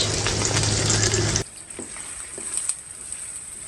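Chopped onion and ginger-garlic paste hit hot oil in a pan with a loud, dense sizzle that drops abruptly after about a second and a half to a quieter, crackling fry.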